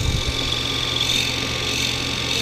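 Wood lathe spinning a lidded box while the top is cut off, a steady continuous whir with a faint high tool hiss, close and unbroken throughout.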